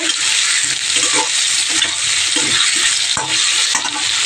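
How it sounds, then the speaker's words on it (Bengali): Steady, loud sizzling of ginger, garlic and green chilli paste frying in hot oil in a kadai, with occasional scraping knocks from stirring, continuous throughout. "এটা একটু লাল করে ভেজে নেব।"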